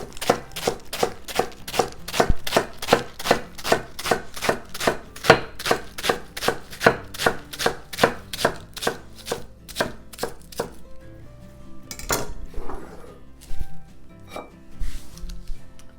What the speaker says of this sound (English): Got a head of iceberg, and cut a little piece off. Shred it up.